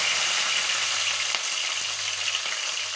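Chopped green chillies sizzle in hot oil with curry leaves and popped mustard seeds, a steady close crackling hiss throughout with no voices.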